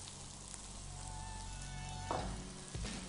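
Shredded cabbage stir-frying in a pan with black pepper and salt while Singapore-style rice is prepared: a quiet, continuous sizzle with a few scraping stirs toward the end.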